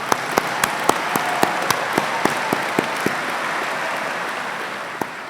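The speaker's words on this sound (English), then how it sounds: "a round of applause for our wonderful name reader" A graduation audience applauds the name reader: dense, steady clapping with a handful of sharp nearby claps standing out, fading slightly toward the end.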